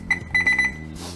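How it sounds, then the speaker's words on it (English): A Henny Penny GVE open fryer controller beeps in a rapid series of short, bright electronic tones, close and clear, then a brief pause. "Till we get that first beep."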